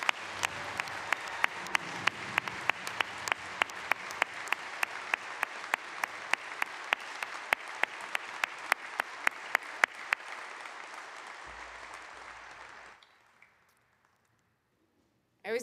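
Award winners at an annual conference opening session receive applause, a steady clapping from an audience with a few loud individual claps standing out, lasting about twelve seconds before fading out.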